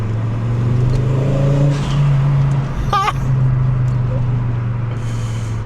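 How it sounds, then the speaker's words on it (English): Volvo 850 GLT turbo engine pulling under acceleration, a steady loud drone with a brief whistling blow-off valve chirp midway, continuous and close. "Turbo noises for the win."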